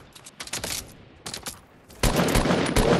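Video game gunfire in Fortnite comes in short rattling bursts with gaps between them, then builds into a denser, louder volley near the end.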